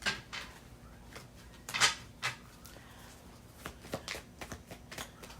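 Soft papery riffling bursts of cards being shuffled, several quick flurries in a row, close and fairly quiet with no talking.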